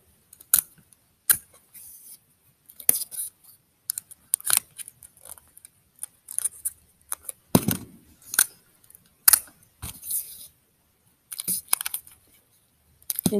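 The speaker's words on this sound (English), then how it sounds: "And tape my last 2 ends together." Duct tape being handled while the ends of a paper flying disc are taped together, with short scattered crinkles, rips and taps that come in quick close bursts between moments of silence.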